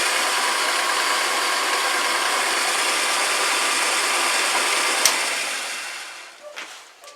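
A homemade milling attachment runs at low speed, around 120 rpm or less, producing a steady loud mechanical whir and ratcheting drone that winds down near the end.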